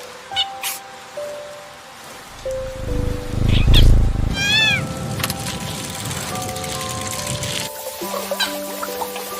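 A cat meows repeatedly, with rising and falling cries that stand out clearly over background music and game sounds, fairly close and loud.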